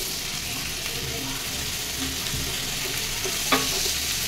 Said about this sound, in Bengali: এবার এই গ্রেট করা লাউ দিয়ে দেবো